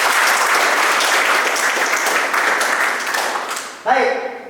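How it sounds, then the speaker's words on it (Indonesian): Sustained crowd applause fills a lecture setting, steady and dense for several seconds before tapering, then a voice begins speaking near the end. "Aplaus pada kita."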